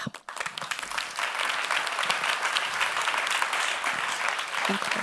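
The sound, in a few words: audience applauding at a forum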